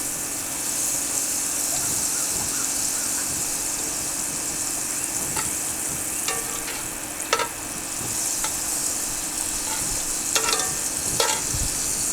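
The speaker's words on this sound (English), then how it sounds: "Oh, look at that sizzle." Steady, close sizzling of butter frying in a Dutch oven, a constant hiss broken by occasional sharp pops and crackles.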